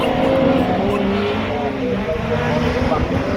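Autograss race cars roaring around a dirt track in a continuous loud engine wash, with tires scrabbling and a commentator talking over the racing.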